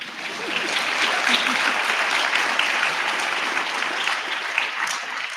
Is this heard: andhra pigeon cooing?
no